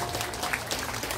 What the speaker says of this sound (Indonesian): Tepuk tangan buat Ning Mala.